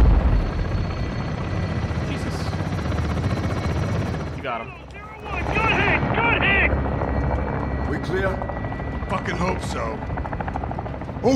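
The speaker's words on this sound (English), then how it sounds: "Oh, we had a helicopter though." A helicopter passes during a Modern Warfare II firefight, its heavy rotor thrum loud and continuous under bursts of gunfire and radio chatter, dipping briefly midway before surging back.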